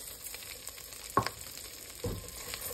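Onion fries in melted butter for a spring vegetable pachan, giving a low, steady sizzle with two brief louder spatters or stirring knocks close by.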